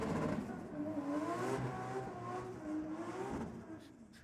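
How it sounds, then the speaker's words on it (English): Blown-out car, likely Barra-powered with a stripped two-seat interior and 275 radials, doing a burnout at a Sydney drag strip meet; a rough, droning engine roar with shifting revs, moderately distant and sustained. "Sounds fairly strong in the burnout."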